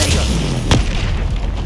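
Spell impact in Hogwarts Legacy: a single sharp, booming burst midway through over a rumbling game background.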